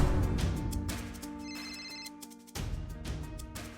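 A telephone rings unanswered in a domestic TV drama scene, repeated electronic ringtone bursts in a steady pattern, fairly quiet and close, with no one speaking over it.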